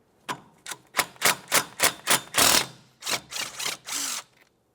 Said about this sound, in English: Remove the 10mm headed bolt and then the sensor.